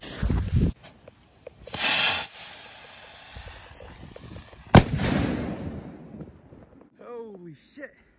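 Fizzing, hissing bursts from a firework rocket igniting close by in windy conditions at a sandpit, a sharp bang partway through, then a brief shouted voice at the end.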